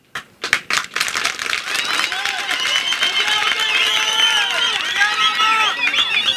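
A crowd at a visit by the Minister of Minerals bursts into sustained applause and cheering, starting with a few sharp claps and swelling into dense, steady clapping with scattered voices.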